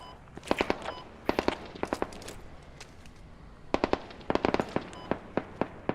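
Video game gunfire crackles in scattered clusters of sharp shots, some rapid and some spaced apart, over a continuous low game ambience with no talk.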